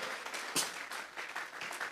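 A church congregation claps together in applause, a soft, diffuse patter of many hands heard at a distance and fairly faint, with no talking over it.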